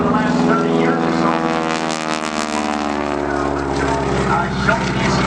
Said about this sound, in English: Supercharged, fuel injected, Pratt Whitney radial engine.